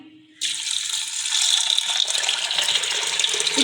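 Water from a tap pours in a steady, continuous gush onto chickpeas soaked overnight with baking soda, starting abruptly and running close and even for a few seconds before boiling.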